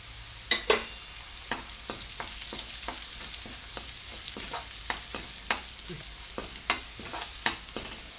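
Curry leaves and black pepper frying in hot oil for garlic rice, a soft crackling sizzle punctuated by sharp spatula taps and stirring scrapes at irregular intervals, close but fairly quiet.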